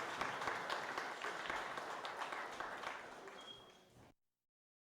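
An outdoor gathering applauds a voyageur canoe crew, a sustained round of clapping that gradually fades before cutting to silence near the end.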